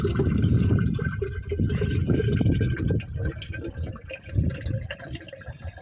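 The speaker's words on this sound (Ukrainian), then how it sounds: "я ще наберу з чайника кувшин." Water from a kettle runs into a jug in a steady gushing stream that lasts several seconds, fairly close, with a few brief dips in the flow.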